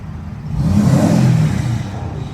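A diesel pickup truck engine revs up into a loud, swelling roar for about a second, then eases back to a lower steady rumble, close and with no voices.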